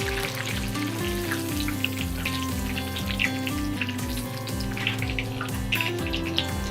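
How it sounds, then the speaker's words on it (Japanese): Sliced paprika deep-frying in hot oil for a keema curry, giving a steady, close sizzle with a continuous bubbling crackle throughout, no voices. "食べやすく切ったパプリカを揚げていきます。"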